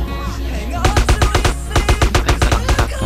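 Rapid bursts of automatic gunfire in GTA San Andreas Multiplayer, loud and sharp, in repeated volleys with short gaps, over a low steady background hum.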